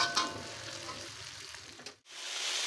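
Garlic sambal sautéing in a pan, a steady broadband sizzle with stirring that cuts out abruptly as the heat is switched off, then resumes faintly, no talk.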